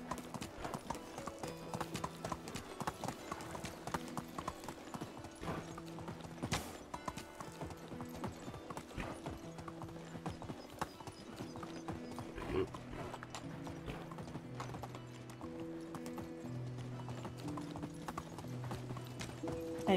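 Rapid rhythmic clip-clop of horse hooves galloping in the medieval survival game Medieval Dynasty, continuous and fairly faint under soft background game music, with no talking.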